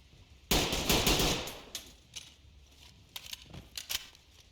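Gunfire in the tactical shooter Ready or Not: a loud rapid burst of automatic shots followed by a few scattered, quieter single shots and mechanical clicks.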